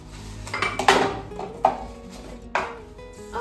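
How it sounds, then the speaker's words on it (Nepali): Dishes, pots and utensils clatter and clink while being scrubbed in a home kitchen, with several sharp metallic knocks and scrapes in an uneven rhythm, close and fairly loud, no talking. "सो अब भाँडा पनि माझियो।"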